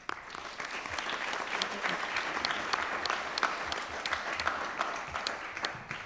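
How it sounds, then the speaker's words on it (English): Audience at a conference open-debate session applauding panelists and commentators, sustained, fairly soft clapping from a room of people with individual claps audible, continuing steadily for several seconds. "Let's extend a very warm hand of applause for our panelists and commentators here for their contributions to today's panel."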